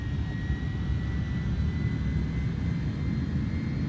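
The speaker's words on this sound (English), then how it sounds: "Those engines are really spooling up." Airliner jet engines spool up for takeoff in a flight simulator game, a steady loud roar with a thin rising whine sustained throughout.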